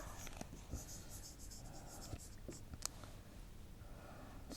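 Marker or chalk writing on a board in a lecture setting, faint scratchy strokes and occasional taps over a steady room hiss, with no speech.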